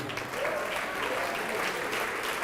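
A church congregation claps continuously in dense, even applause that holds steady for the whole stretch.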